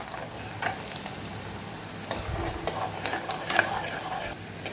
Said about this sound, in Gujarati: ડુંગળીને આપણે પહેલાં સરસ સાતળી લેવાની છે